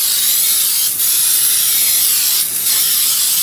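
A Baker's Choice cooking spray can spraying into a 9x13 baking pan, a loud, close, continuous hiss with two short dips partway through.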